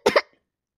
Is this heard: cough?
yes